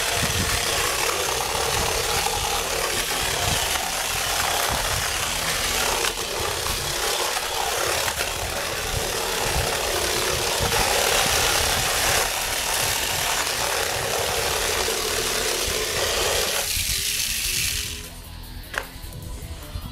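A Crush Gear toy fitted with a high-spec wheel weapon runs with a constant high whirring motor buzz, close and loud, that cuts off abruptly near the end.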